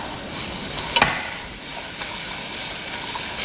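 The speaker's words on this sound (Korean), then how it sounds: "이때 재료는 타지 않도록 볶아주시는데 충분히 볶아주셔야 됩니다." Celery and other vegetables stir-fried in a pan for brown gravy sauce, with a steady close sizzle and a couple of brief scraping stirs.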